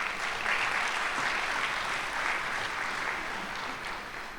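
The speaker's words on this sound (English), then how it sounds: "That's a good place for a hand clap." Sustained applause from a large audience at the 72nd annual NAREB convention, a dense steady roar of many hands, loud and fairly close, holding evenly throughout and easing slightly at the end.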